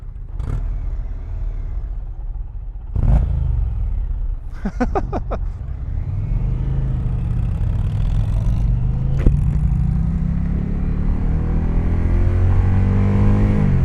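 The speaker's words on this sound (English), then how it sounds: "This engine revs to 6" A 2020 Indian Challenger motorcycle with a liquid-cooled dual overhead cam engine revs up in sharp bursts, then settles into a loud, steady rising and falling drone close by.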